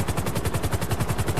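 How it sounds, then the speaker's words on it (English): Rapid, evenly spaced machine-gun fire from an aircraft fight in GTA Online, a steady rattling burst of about twenty shots at close range, with a propeller being shot out. "I shot out his propeller"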